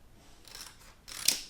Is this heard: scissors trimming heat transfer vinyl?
yes